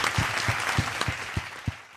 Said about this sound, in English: Another hand clap.